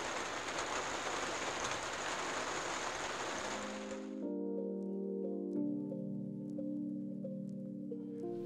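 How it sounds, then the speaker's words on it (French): Heavy thunderstorm rain pouring on a small 2023 Pilote P600P camper van, a loud dense steady roar of drops that cuts off abruptly midway, giving way to sustained tonal droning. "ça c'est une pluie d'orage"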